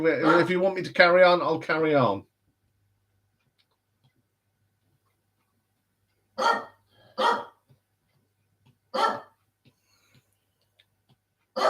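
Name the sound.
dog barking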